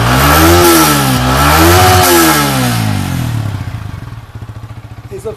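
A used motorbike's engine runs and revs loudly in a showroom, rising and falling in pitch through a few throttle blips before settling into a steady, lumpy idle that chugs at close range.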